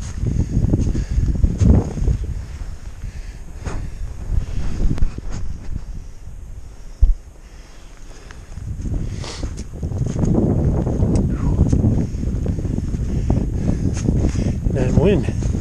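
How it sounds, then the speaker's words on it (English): Strong wind buffeting the microphone on a mountain ridge along the Appalachian Trail, a steady roaring rush with gusts rising and falling, loud and close, while a person talks over it. "That wind."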